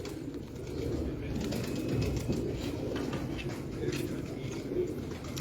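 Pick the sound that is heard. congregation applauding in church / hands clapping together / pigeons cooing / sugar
pigeons cooing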